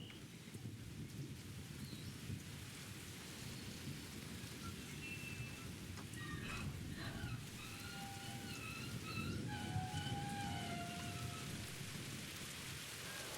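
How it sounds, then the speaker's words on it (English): Steady rain with rolling thunder fills a stormy scene in the video game Enigma Machine, a dense wash of downpour with low rumbles swelling and fading throughout, bright dripping and chiming tones drifting above. "It is raining."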